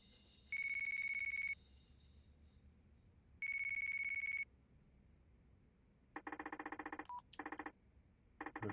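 Telephone in Yakuza 4 Remastered, two long electronic rings with a pause between, then rapid bursts of dialing tones and beeps, clear against quiet background hum.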